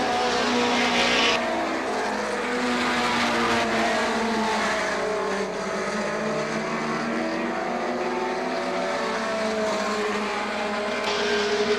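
Mini stock division race cars roar around Star Speedway during a heat race, a steady, loud engine drone with rising and falling pitch as the pack circles, continuous throughout.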